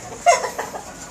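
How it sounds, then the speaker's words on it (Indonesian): Roosters in an outdoor free-range farm pen on a dark, rainy day give a short burst of clucking calls, fairly close, with a few softer clucks trailing after. "ini juga jago-jago kita"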